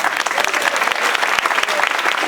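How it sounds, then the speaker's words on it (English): A room of people at a Martin Luther King Day community conversation breaks into loud, dense applause, many hands clapping together in a close, continuous burst with some crowd noise mixed in. "But please give them a round of applause."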